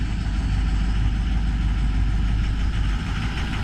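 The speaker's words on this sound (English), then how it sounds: "And as you can hear, the motor's smooth." A 2006 Ford F-550 Super Duty truck engine idles steadily after a cold start with a low, even rumble, running smoothly without revving.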